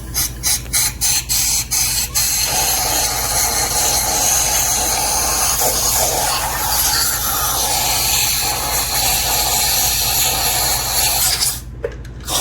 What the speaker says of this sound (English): Now we're gonna blast it with some air. So we're gonna use this long air rod.